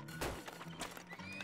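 Horse neighs in the Turmoil video game, a single loud whinny with faint clip-clop hoofbeats and game ambience behind it.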